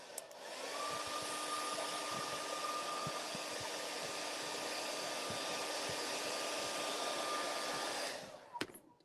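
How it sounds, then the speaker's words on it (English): A blow dryer blowing on fresh paint, a steady close whooshing roar with a faint motor whine that starts abruptly, holds evenly for about seven seconds, then clicks off. "it's dry to the touch because of the blow dryer"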